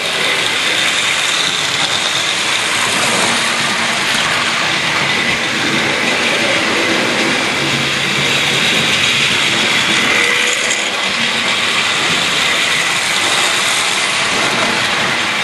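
A Hornby Stephenson's Rocket model train runs along its track with a loud, continuous whirring rumble that holds steady from start to finish.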